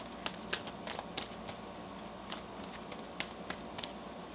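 Tarot cards being shuffled by hand, a soft papery riffling with sharp flicks and slaps recurring irregularly over a few seconds, close and moderately quiet with no talking.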